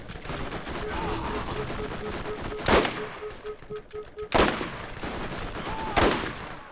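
Gunfire from a sniper rifle in Borderlands, with three loud sharp cracks spaced a second or two apart over continuous game background noise, with no talking.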